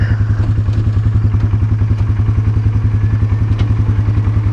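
A Polaris 570 four-wheeler idles on a farm, its engine putting out a steady, rapid, even thumping pulse close to the microphone, running alone with no talk.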